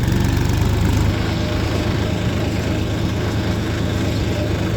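A tractor hauling a sugarcane trolley along a rough, potholed farm track runs with a loud, steady, close engine drone and rumble that persists throughout.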